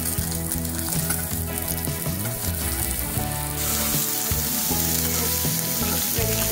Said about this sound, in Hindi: अब हम इसमें तेज पत्ता डालेंगे, रेड मिर्च डालेंगे, अब हम इसमें प्याज डालेंगे।